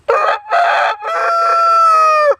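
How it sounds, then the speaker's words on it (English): A rooster crows loudly and close by, one long cock-a-doodle-doo with a few choppy opening notes and a drawn-out final call. "waking up to the incessant crowing of our new rooster"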